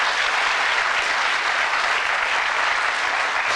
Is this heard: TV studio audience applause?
yes